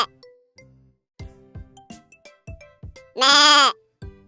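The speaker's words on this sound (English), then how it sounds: "Goat." A goat bleats in a loud, drawn-out, wavering call near the end, after a series of short tonal notes and jingly chimes from a children's farm-animal lesson.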